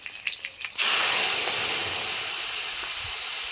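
Spice paste of cumin powder, chilli powder and ground ginger mixed in water hits a hot pan with a sudden loud hiss that bursts in and keeps steaming steadily.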